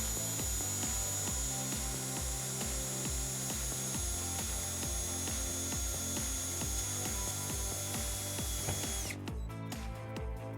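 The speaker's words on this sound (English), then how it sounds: "we're just gonna put a screw right in next to it" A power driver runs a screw in to ground a U-Haul taillight converter harness on a 2007 Hyundai Sonata. It gives a steady, close, whirring drive with regular ratcheting pulses that stops abruptly near the end.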